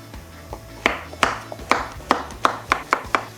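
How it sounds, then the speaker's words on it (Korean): A knife cuts king oyster mushrooms lengthwise on a cutting board, making a series of crisp, close taps that speed up into a fairly regular rhythm, with no talking. "새송이 길쭉길쭉하게 썰어줄 거고요"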